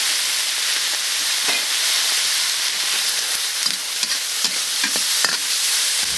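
Bean paste, soybean paste and chili stir-fry in a hot pan for braised loach, a loud continuous sizzle with scattered scraping strokes throughout.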